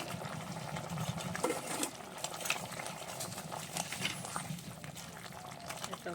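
Fried bata fish goes into a simmering potato and cauliflower curry, with soft bubbling and gentle stirring clinks close by at a low, steady level, and no clear talking.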